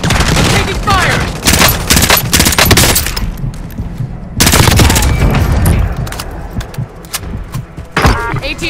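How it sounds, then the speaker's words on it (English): Heavy automatic gunfire and booms in the battle royale game Warzone, loud rapid bursts in several waves with short quieter gaps and a final burst near the end. "I'm taking fire!"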